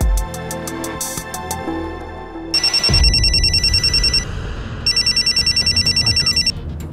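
A mobile phone rings loud and close, first a short chiming tone, then two long bursts of bright electronic trilling separated by a brief gap, over a low background hum.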